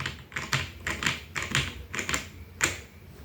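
Keys pressed on a wired, gasket-mounted Vortexseries Mono mechanical keyboard with ABS double-shot keycaps, a steady run of about eight close, crisp clacks spaced roughly half a second apart, with no one talking.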